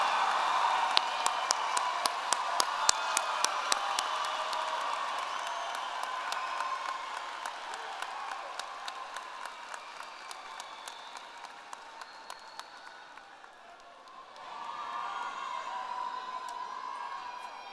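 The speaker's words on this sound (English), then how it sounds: "Please join me in giving students a well-deserved round of applause" Audience applause for new graduates at a fall university commencement ceremony, a broad, steady wash of clapping with a few sharp louder claps on top, easing off slightly before swelling again near the end.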